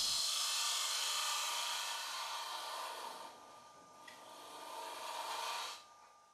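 A titanium nitride coated high-speed steel TurnMaster cutter turns a wood bowl on a lathe, giving a steady, fairly loud broadband hiss and shaving rasp that eases midway, surges again, then stops near the end.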